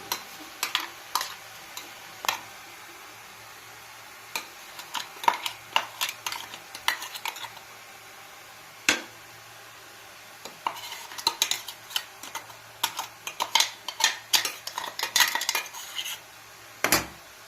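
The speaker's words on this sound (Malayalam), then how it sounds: "നമുക്കൊന്ന് ഇളക്കി കൊടുക്കാം." Crushed spice paste is stirred into wilted leafy greens in a pan with a metal spoon, giving sparse clinks and scrapes against the pan in irregular bursts, close and fairly quiet, with no talking.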